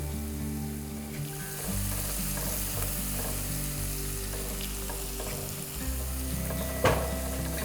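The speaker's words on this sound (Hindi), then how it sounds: "मिर्ची लहसुन को एकदम ब्राउन नहीं करना है, हल्का सा स्वेट करना है, कच्चापन निकालना है बस।" Chili and garlic sizzle steadily in hot ghee, a continuous close frying hiss with occasional stirring scrapes and one brief clatter near the end, no talking.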